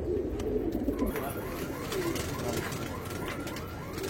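Andhra breed pigeons in a loft coo in overlapping, throaty calls, a steady murmuring chorus close by with soft rustling beneath.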